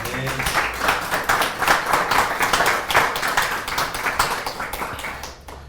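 A church congregation applauding during a morning worship service, steady dense clapping from many hands sustained for several seconds, fairly close, then tapering off at the end.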